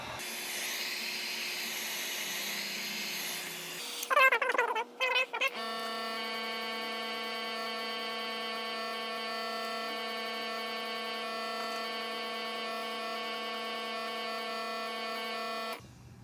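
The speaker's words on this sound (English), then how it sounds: "And then what I like to do is take the heat gun" A heat gun drying paint on a Boba Fett helmet drones with a steady, close whirring whine after a brief rattle, holding an even pitch for about ten seconds before cutting off.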